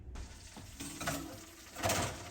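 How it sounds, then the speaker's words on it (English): Soft crackling sizzle of melted butter in a hot pan in the oven for biscuits, with a few light scrapes and a brief louder burst near the end; no talking. "until all the butter is melted and it's sizzling around the pan"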